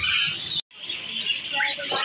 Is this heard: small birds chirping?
yes